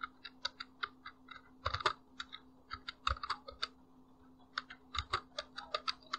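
Typing on a computer keyboard, a series of crisp separate key clicks in uneven bursts with short pauses between them, close and fairly quiet over a faint steady hum.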